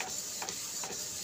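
An Epson L3110 inkjet printer printing a photo with Bulk Ink 003, its print head shuttling in quick repeating mechanical passes, a soft whirring rhythm heard up close with no talking.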